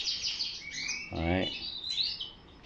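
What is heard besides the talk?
pair of breeding canaries chirping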